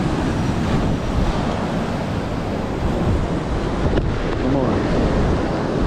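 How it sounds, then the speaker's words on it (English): Rough surf and strong wind at Sunny Isles Beach, Florida, during Tropical Storm Alex: constant crashing waves and heavy wind buffeting the microphone, with a brief voice over the roar. "I guess if you're a surfer, even the surf is kind of rough"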